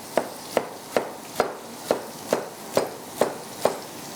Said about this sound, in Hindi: चलें, इनको हमने अच्छा सा स्लाइस कर लिया है।